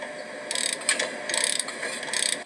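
A torque tool ratchets in quick clicking bursts while tightening a Boeing 787 engine cowling mount on a factory floor, three short runs of clicks over a steady background hum.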